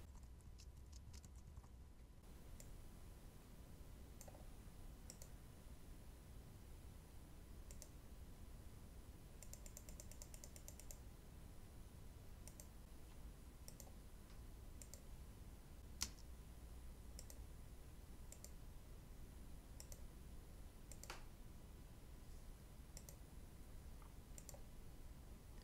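Keys on a computer keyboard click faintly as someone types text in Adobe Illustrator, with scattered soft taps and a few brief quick runs against a quiet room hiss.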